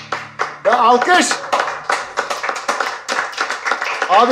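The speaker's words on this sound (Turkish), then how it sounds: "Ya alkış!" A studio audience at an acoustic music show claps in quick, uneven bursts throughout, mixed with voices talking and calling out over the applause.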